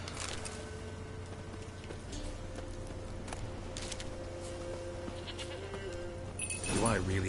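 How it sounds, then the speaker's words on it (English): Goats bleat in Witcher 3, a few calls rising near the end over a steady game ambience with a low hum and faint hoof clops. "Stupid goats."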